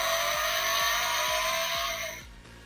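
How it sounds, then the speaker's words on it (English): A Transformers The Last Knight Bumblebee toy car plays its electronic engine sound, a loud revving whine with steady pulsing that winds down and fades at the end, heard alone and close. "The engine sound and the light never get me bored."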